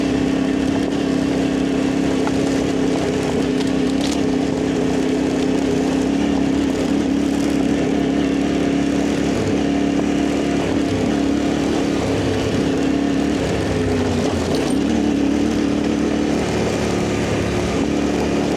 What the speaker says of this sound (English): Oh, I can hear his 790 droning behind me.